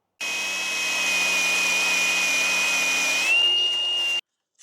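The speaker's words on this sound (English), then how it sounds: "just ground the tabs off so we can remove this shield on here" An angle-grinder-style power tool runs at a steady high whine, grinding tabs off a Ford car exhaust heat shield, loud and close, pitch rising slightly before cutting off abruptly.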